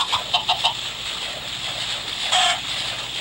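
Chickens cluck in the Minecraft Pocket Edition video game, a few short squawky bursts at the start and another brief cluck later, close and clear over a faint background.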